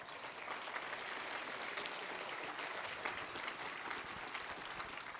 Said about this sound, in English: I would entertain your applause at this point